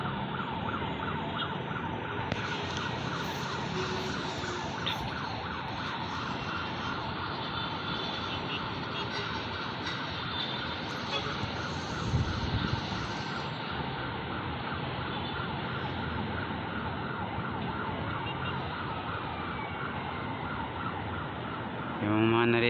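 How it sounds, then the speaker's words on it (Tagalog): Ambulance and fire truck sirens wail continuously through dense traffic on their way to a fire, a steady urban din with engine and road noise and a low aircraft-like rumble underneath. "Yung mga narinig nyo na mga sirena, yan ay mo sa ambulansya at sa bumbero na pupunta doon sa nangyayaring sunog."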